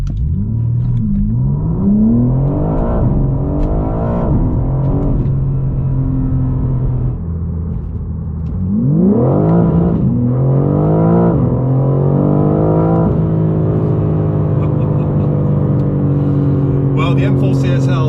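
A BMW M4 CSL with a titanium exhaust pulls through the gears on the road, its engine rising and falling in repeated revving sweeps with a deep rumble, loud and continuous for the whole stretch, and a voice occasionally talking over it.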